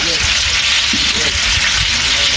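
Whole cardamom, cinnamon, bay leaves and cloves fry in hot oil in a large pot for pulao, a steady, close, hissing sizzle, with a faint voice underneath.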